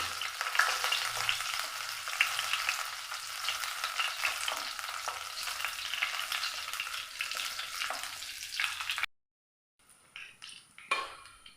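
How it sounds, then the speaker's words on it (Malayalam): Curry leaves and ginger frying in hot oil as a savory samosa snack is cooked, giving a steady close sizzle that runs continuously, then cuts to silence before a few light clinks and stirring scrapes. "കറിവേപ്പില, നല്ലപോലെ ഒന്ന് മൂപ്പിച്ചെടുക്കാം."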